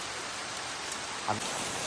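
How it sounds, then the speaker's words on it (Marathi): Rain begins to fall right after bright sunshine, making a soft, even hiss of drops with one brief knock partway through. "आता चांगला ऊन होता आणि लगेच पाऊस येलो"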